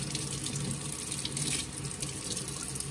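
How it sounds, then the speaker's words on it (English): A kitchen tap runs water through the lead pipe of a French horn, giving a steady, close splashing rush that continues unbroken and alone. "we want to run it through the lead pipe of the instrument."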